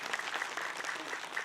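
A studio audience claps steadily at a fairly soft, even level through a short burst of applause during an Islamic talk show taping.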